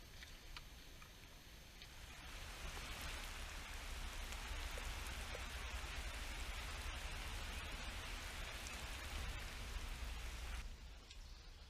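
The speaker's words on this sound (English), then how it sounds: "Still raining pretty good." Steady rain falls outdoors during a fishing trip, making a soft, even hiss that continues throughout with no talking.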